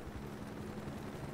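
A helicopter in Battlefield Bad Company 2 makes a faint, steady rotor drone and low rumble, distant and continuous with no talk over it.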